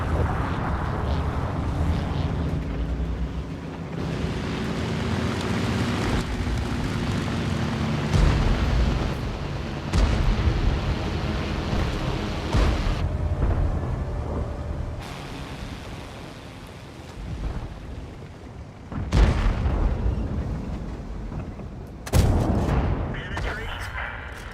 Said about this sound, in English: Oh, flipping artillery again, man